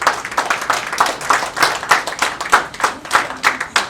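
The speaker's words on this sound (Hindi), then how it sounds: "तो आइए हम दोनों परिवार के लिए जोरदार ताली" Guests at a traditional wedding clap together in a steady, fairly quick rhythm, a loud burst of hand claps recurring evenly throughout with no talk over it.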